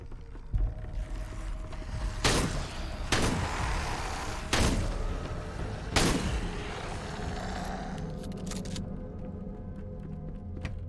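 Four spaced shotgun blasts in the Dead Frontier 2 video game, each a sharp loud crack with a short decaying tail over a low background rumble.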